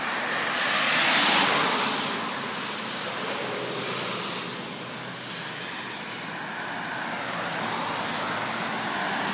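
Steady road traffic on Route 7 rushes past in a continuous broad wash of tire and engine noise, loud and nearby, swelling slightly at the start and then holding level.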